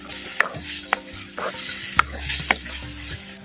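Ground masala sautéing in oil for cauliflower 65, with a crisp steady sizzle and several sharp clicks and scrapes of a spoon stirring against the pan, close up and without speech.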